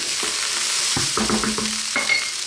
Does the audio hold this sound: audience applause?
no